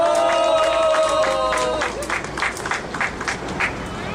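Audience applause welcoming a union executive onto the stage at an outdoor candlelight rally, a burst of clapping from a crowd that swells in and continues steadily to the end.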